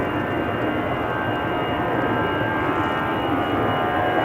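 At Amsterdam Schiphol Airport a departing airliner gives off a loud, steady jet roar that rumbles on without a break throughout.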